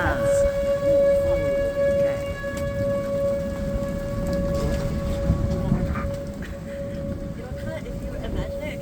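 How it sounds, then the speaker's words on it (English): Rain pours steadily during a severe thunderstorm, loud and close, while a tornado siren wails in a long sustained tone behind it and voices talk briefly. "Because I'm in the rain."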